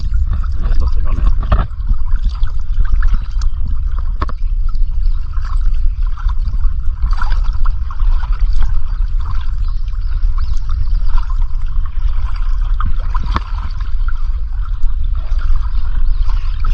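River water flowing steadily toward a weir, the current quickening as the channel turns shallower and narrower; a constant broad rushing wash with a low rumble, heard alone without talk.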